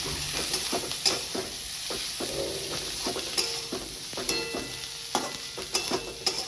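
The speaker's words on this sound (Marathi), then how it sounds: "हे सगळं मी भाजून घ्यायचं चांगलं बघा हा मसाला असा भाजायचा आहे आपल्याला" Light sizzling with frequent scraping and stirring of a spatula against a kadhai, spice masala for a Satara-style egg curry being dry roasted up close, no voices.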